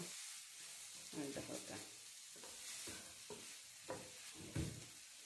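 A spoon stirs a mackerel and spice mixture for a chutney in a sizzling pan, with scraping strokes coming in irregular bursts over a steady frying hiss, close up.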